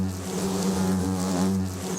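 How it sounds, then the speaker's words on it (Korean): Giant hornets drone in a dense, steady buzz close by, a low whirring hum of many wings with no voices over it. "송곳 같은 침과 치명적인 독을 뿜으며 공격적으로 달려드는 장수말벌"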